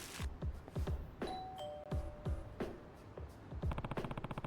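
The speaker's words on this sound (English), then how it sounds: "Never would have guessed the doorbell to be there" A doorbell chimes in the video game Yakuza: Like a Dragon, a clear two-note ding-dong ringing out between thudding footsteps and other game effects.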